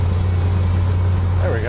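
A 1966 Chrysler New Yorker cruising after sitting unused for a long time, its steady low engine drone and road rumble continuous and close, with a brief voice near the end.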